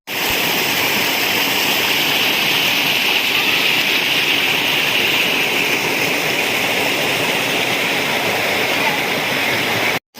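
Jatashankar waterfall on Girnar hill pours steadily at reduced monsoon flow, a loud, constant broadband rush of falling water heard close and alone throughout.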